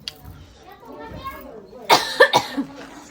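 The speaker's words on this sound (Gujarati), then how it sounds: "પછી મને સડી ગયા ઉધરસ" Faint voices murmur, then someone nearby coughs several times in a quick, rough burst.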